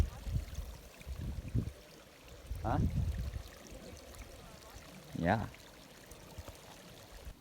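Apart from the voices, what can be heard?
small mountain stream flowing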